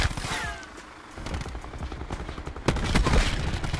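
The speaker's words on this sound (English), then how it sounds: "this ABR feels like a pretty much a two-burst weapon" ABR .223 firing in bursts in Call of Duty Black Ops 4, clusters of sharp rapid shots with short gaps between them, loud and close.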